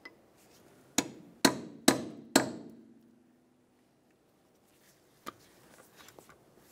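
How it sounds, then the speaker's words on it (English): Four sharp metallic hammer-and-chisel strikes in quick succession ring out, separating a control arm ball joint on a 2002-2009 Chevrolet Trailblazer, followed by a pause and a few lighter taps and clinks. "Now we'll use a hammer and chisel and gently separate the control arm right in this area."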